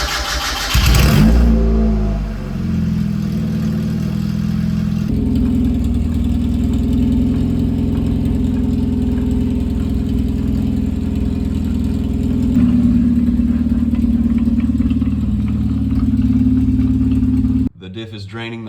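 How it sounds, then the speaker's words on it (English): A Mazda Miata drift car with a freshly welded differential starts up, revs briefly, then settles into a loud, steady mid-pitched idle, with a shift in engine tone partway through and a sudden cutoff near the end. "So I'm just gonna run it like that for a few minutes and try to circulate some of the fluid through"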